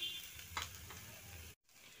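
Taro and red pumpkin fry in a pan with a steady, faint sizzle and a light stirring scrape, briefly dropping out near the end.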